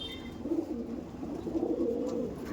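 Punjabi Malbai pigeons cooing, a low soft rolling coo repeated in a couple of phrases, close by and fairly clear.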